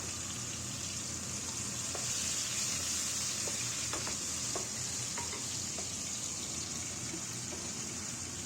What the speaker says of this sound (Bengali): এখন সেম পাত্রে সেম তেলের মধ্যে আমি একটু আলুগুলো ভেজে নিচ্ছি